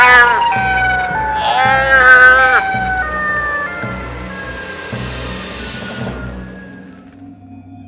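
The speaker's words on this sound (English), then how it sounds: "if you ever hear those sirens, beware" Siren Head's wailing sirens blare in a Minecraft horror game, a loud, sustained rising and falling howl over a steady rain-like hiss, with a brief startled voice at the start.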